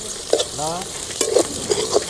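Onions sizzle and crackle in a hot pan while a utensil scrapes and stirs in a few short strokes.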